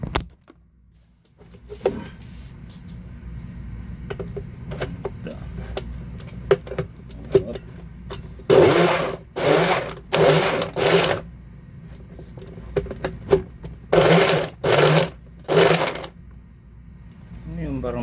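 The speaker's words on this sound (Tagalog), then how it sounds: "So yung ating blender." A loud blender motor whirs in several short bursts while making a blueberry smoothie, starting and stopping in a choppy pattern, after a quieter stretch with a voice speaking.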